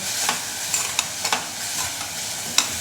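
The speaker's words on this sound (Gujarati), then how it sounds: "સ્વાદ પ્રમાણે નમક ઉમેરીશું ચપટી હિંગ લઈશું થોડી હળદર પણ લઈશું બધું જ બરાબર મિક્સ કરી લઈએ" Salt, asafoetida and turmeric are stirred into onions cooking in a pan, with a steady sizzle of frying and several soft scraping strokes of the spoon, close and fairly loud, no voices.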